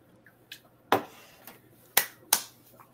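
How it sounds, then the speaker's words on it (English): A few sharp, isolated claps ring out at irregular intervals, crisp and close, with quiet pauses between them. "Clapping for yourself."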